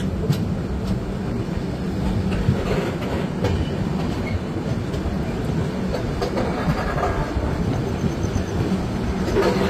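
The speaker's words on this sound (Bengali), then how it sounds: "ট্রেন আমাদের কিছুক্ষণ লেট চলছে।" Guwahati Garib Rath Express (12517) running on rails between Kolkata and New Alipurduar, a steady loud rumble of wheels on track with faint clickety-clack throughout, heard from inside the train with no talking.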